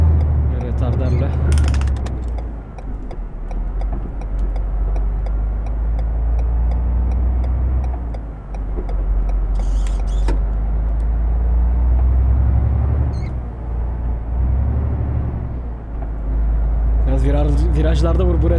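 A Ford F-Max truck in Euro Truck Simulator 2 rolls along snowy Nordic roads with its deep diesel engine droning continuously, its pitch swelling and dipping through gear and retarder use, with a few clicks and rattles along the way.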